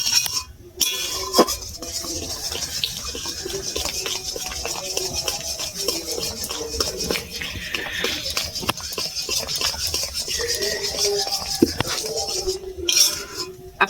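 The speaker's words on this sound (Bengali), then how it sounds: "এইভাবে নাড়তে হবে।" A sweet pitha mixture stirred in a cooking pot, with continuous scraping and soft clinks of the spoon against the metal carrying on steadily throughout.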